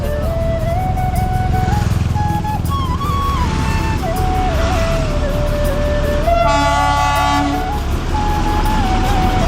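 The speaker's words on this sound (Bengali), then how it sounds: "আসার সময় একটা টয় ট্রেনের আওয়াজ পেলাম" A toy train on a hill road near Siliguri rumbles past loudly and close, with a wavering whistle-like drone over the engine noise. A brief, strong horn blast sounds partway through.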